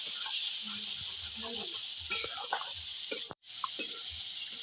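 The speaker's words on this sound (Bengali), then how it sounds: "লঙ্কা গুঁড়ো, হলুদ গুঁড়ো, মশলাটা ভালোভাবে কষিয়ে নিয়ে তারপরে মাংসটা রান্না করবো" Chili and turmeric powder fry in a pan as masala for chicken and mutton biryani, a soft, continuous sizzle and hiss with scraping stirs and small clatters, one brief dropout near the end.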